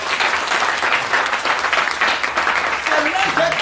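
A church congregation applauding and cheering, a dense steady wash of clapping and crowd noise filling the space, loud and continuous, with faint voices rising near the end.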